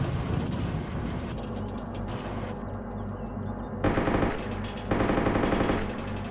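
Enemy gunfire in the military shooter ARMA 2, rapid machine-gun bursts rattling close and loud, with brief pauses between bursts and a louder flurry near the end.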